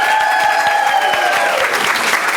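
A community recognition gathering applauds its bartender: a dense, steady wash of many hands clapping throughout, mixed with sustained tones from the hall's music.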